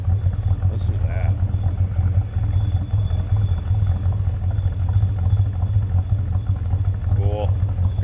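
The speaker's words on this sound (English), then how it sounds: "This is a great sounding engine. Nice exhaust on it. No headers either, manifold, and it just sounds, got a mean sound to it." A 1964 Oldsmobile Cutlass convertible's V8 idles through stock exhaust manifolds with no headers, a loud, steady, throaty low rumble with an even lumpy pulse, close by, with brief voices over it.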